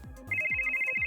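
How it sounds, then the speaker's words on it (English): Mobile phone ringtone starting up and sounding clearly, a steady electronic tone with a pulsing beat, close and fairly quiet, alone with no voices. "Max's phone starts ringing."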